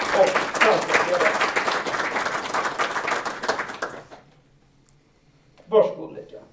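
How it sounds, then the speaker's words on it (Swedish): Audience applause at a Swedish book evening event, a dense round of clapping lasting several seconds that fades into near silence, followed by a brief burst of sound. "En applåd för vår författare och samtalsledare."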